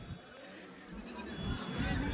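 Goats of the Alwar Ajmera breed bleat at a busy goat market in Benai, their short calls rising and falling over a low crowd din while people talk nearby.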